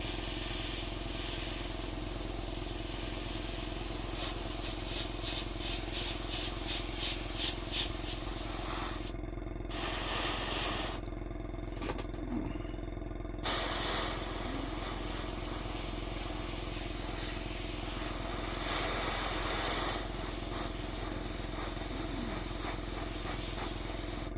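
An airbrush sprays paint onto a 1/35 scale Tamiya US 2½-ton 6x6 cargo truck model, a steady airy hiss running continuously with a few brief cut-offs in the middle.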